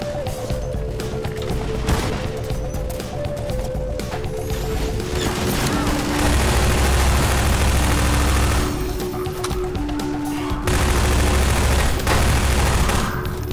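Magnum revolver gunfire in Half-Life 2 Episode 2 amid a chaotic firefight, heavy repeated shots and crashes over a loud rumbling drone that swells in two long stretches, with game tones layered through.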